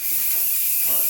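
Steady, loud steam hiss from the boiler of a homemade LEGO steam turbine, a continuous rushing sound with no breaks and no talking.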